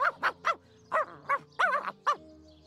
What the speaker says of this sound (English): dog is awfully agitated